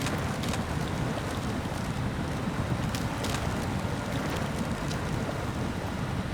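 Heavy truck engine from the SnowRunner off-road driving game gives a steady, loud, broadband rumble with a constant low drone and wind-like noise, holding unchanged throughout with no speech.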